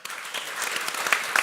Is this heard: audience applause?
yes